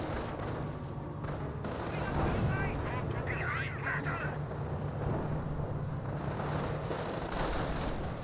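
An artillery barrage in the Company of Heroes strategy game, with heavy shelling and gunfire rumbling steadily under a commentator's continuous talk.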